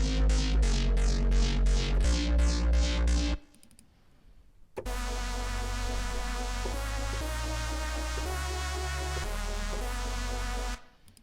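Mono synth presets from the HALO expansion play a pulsing, rhythmic bass-heavy line, pause briefly, then resume with a sustained, buzzing sequence of held notes, loud and up close with no talk.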